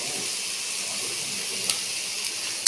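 Soy sauce hitting hot pasta in a pan gives a steady, quiet hiss and sizzle throughout, with a couple of small spatter pops near the end and no one talking.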